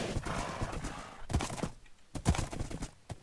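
A horse in the Minecraft video game clip-clops along in quick hoof beats, with a neigh mixed in and a low background hum.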